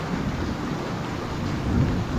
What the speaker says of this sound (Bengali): অনবরত বৃষ্টি হয়েই যাচ্ছিল